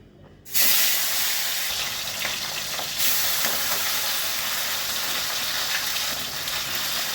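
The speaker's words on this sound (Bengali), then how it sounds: "মাছগুলো প্রথমেই আমি ভেজে নিচ্ছি।" Small sarpunti fish frying in hot oil for a spicy fish curry, a loud steady sizzle that bursts in after a brief quiet start and keeps crackling evenly throughout.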